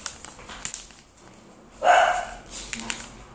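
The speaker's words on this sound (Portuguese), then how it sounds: "ignora meu cachorrinho que ela tá latindo aqui." A small pet dog lets out one loud, sharp bark midway through, near the microphone, with quieter indoor sounds around it.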